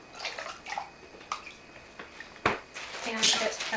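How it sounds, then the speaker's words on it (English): Cold tap water splashes into a basin for washing produce, heard as close, uneven drips and clatter with a louder splash midway, while a person talks over it. "So just get some cold water and some vinegar"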